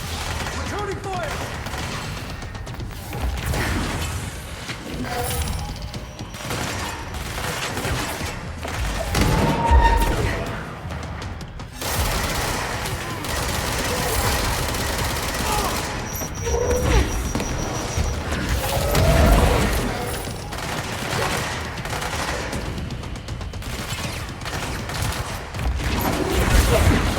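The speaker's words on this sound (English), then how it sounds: "Returning fire!" Gunfire in the video game Control, loud rapid bursts and sharp crashing impacts repeating over nearly half a minute of chaotic combat, with mechanical clanks in between.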